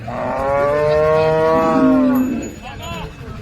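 A cow at a cattle market gives one long, loud, close moo that rises and trails off, followed by a few quieter low sounds.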